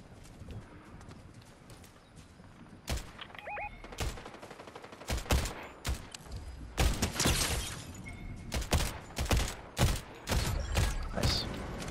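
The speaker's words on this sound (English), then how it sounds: "Hearing shots to the right as well." Gunfire in a Fortnite match, scattered sharp shots and short bursts arriving at irregular intervals, some close and loud, others farther off, with background game ambience and no talk.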